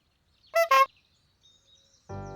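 Cartoon characters in the children's show Bananas in Pyjamas imitate honking horns with their voices, giving two quick nasal honks, a short pause, then a longer buzzing honk.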